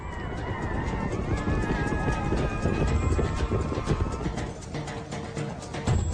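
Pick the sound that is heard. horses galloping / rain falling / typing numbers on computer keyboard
horses galloping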